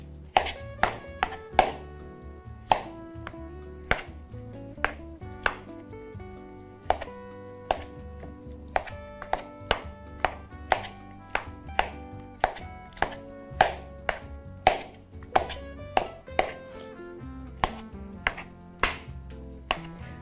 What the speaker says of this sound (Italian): E poi con il cucchiaio andiamo a schiacciare il tutto.